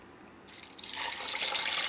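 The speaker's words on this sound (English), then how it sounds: "now we're gonna add water" Water pours into a bowl over washed red lentils, starting abruptly as a bright splashing rush that grows fuller and steadier over a couple of seconds, close by and alone.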